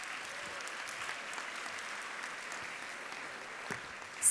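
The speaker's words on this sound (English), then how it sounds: "So clap if you really enjoyed Summarize." A large audience of about 650 people at a summer program's closing ceremony breaks into steady, dense applause, with many hands clapping together and holding at an even level.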